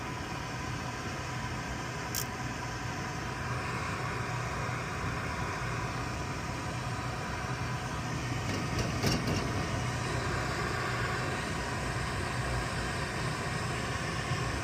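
Steady blower running on a Daikin gas package unit during a heating call, a constant close airy whoosh with a low mechanical hum and a couple of faint ticks, with no talking.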